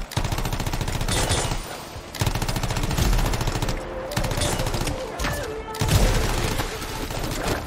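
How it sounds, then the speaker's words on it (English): Heavy, sustained gunfire from the video game Anthem, dense automatic bursts rolling continuously with a few deep booms, loud and close throughout. "They're under heavy fire."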